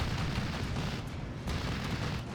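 An IL-2 attack plane's 23mm cannons strafe during a battle in the video game Steel Division 2, producing a dense, continuous rumble of rapid booming fire and explosions, loud and sustained throughout.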